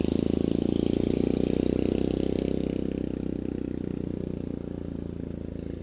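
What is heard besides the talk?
noisy four-wheeler ATV driving by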